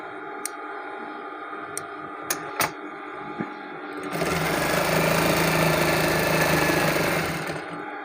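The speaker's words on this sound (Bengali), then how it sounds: "দেখুন আমি এই সেলাইয়ের উপর দিয়ে আর একটা সেলাই করে দিচ্ছি।" A sewing machine stitches over a seam on the piping of a kameez. A few light ticks come first, then a steady, close mechanical whir runs for about three seconds before stopping.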